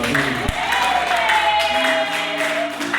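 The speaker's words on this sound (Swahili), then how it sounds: "Pigia tena Yesu makofi mazuri." Congregation clapping for Jesus in a church, steady applause blended with voices and sustained tones, one sharper clap standing out early.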